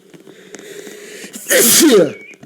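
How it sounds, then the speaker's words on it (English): A single loud sneeze in the Roblox game Camping, with a brief breathy buildup, close and clear over quiet background. "That right there is a sneeze."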